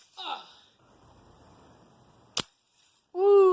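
One sharp, loud gunshot fired at a cheap Walmart camcorder outdoors, a sudden crack standing alone between stretches of people talking before and after.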